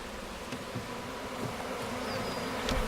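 Steady droning buzz of many honeybees at a hive during a package installation, continuous and moderately loud, with occasional individual bees passing closer; no voices.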